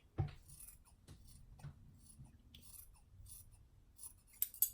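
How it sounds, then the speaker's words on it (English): Scissors trimming a sewn fabric seam, a few quiet close snips and rustles of cloth separated by pauses, with no talking. "So I'm going to give that a quick trim before I top stitch."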